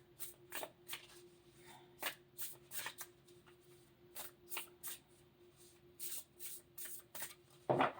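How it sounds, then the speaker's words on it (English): Cards are shuffled in quick riffling bursts, repeated many times with short pauses between, quiet and close, with a faint steady hum underneath. "What a horrendous shuffling job I just did."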